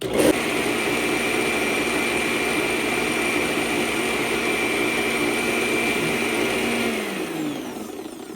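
A blender whips heavy cream into homemade butter, its motor whirring loud and steady for several seconds before winding down near the end.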